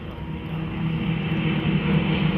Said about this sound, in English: the Thunderbolt is performing above us, the escorting fighter that goes with these 2 B-17s